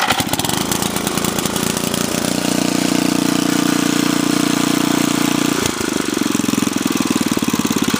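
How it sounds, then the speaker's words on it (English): A repaired Montgomery Ward rototiller's small engine runs loud and close with a rough, rapid chugging idle, briefly revving higher in the middle before settling back to a steady low idle. "And there's low speed idle."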